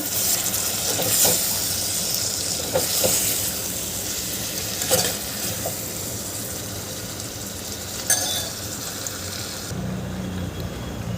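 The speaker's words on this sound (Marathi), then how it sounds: "मी हे वांगे बटाटे घालत आहे आणि भाजी छान मिक्स करायची आहे" Eggplant and potato pieces for a Maharashtrian aloo vangi bhaji sizzle steadily in a hot pan, with a few sharp clinks and scrapes as the spoon stirs them through the oil.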